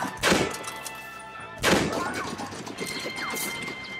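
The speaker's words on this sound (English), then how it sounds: "I do like this single bolt gun. Cause I can take him down in one shot." Two loud, sharp single-bolt rifle blasts from Red Dead Redemption, about 1.5 seconds apart, each a broad percussive crack with a decaying tail over game ambience.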